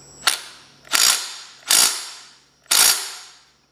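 A torque wrench clicks four times at about one-second intervals as it reaches torque on the head bolts of a 1973 Kohler K301 engine. Each click is a sharp, loud, close snap with a short fade, and no one speaks.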